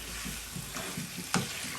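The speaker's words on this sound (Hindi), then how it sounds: "इनको मैं थोड़ी देर भूनूंगी" Diced potatoes frying in a pan for aloo methi, a steady soft sizzle with a few light stirring scrapes and one sharp clink of a utensil partway through.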